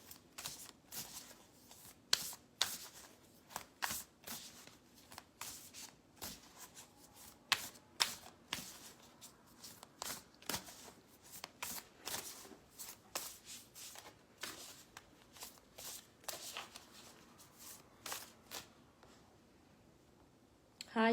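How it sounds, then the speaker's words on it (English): Tarot cards are shuffled close by, a long run of crisp riffling flicks and soft slaps in uneven bursts, quiet and unaccompanied by talk. "I feel like pulling a few cards."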